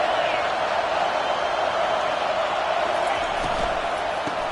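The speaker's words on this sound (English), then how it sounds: "This crowd bringing the energy and noise early" A packed stadium crowd roars steadily at an LSU vs South Carolina college football game, a dense, unbroken wash of noise that stays loud and even across the whole stretch.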